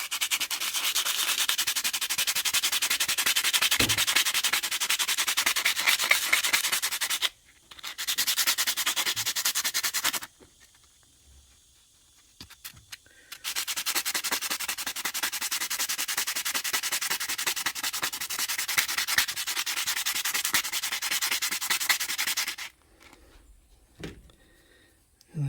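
Hand sanding with 80 grit sandpaper during a rearview mirror mount replacement: long stretches of rapid, rhythmic raspy strokes, broken by two short pauses, close and fairly loud with no talk.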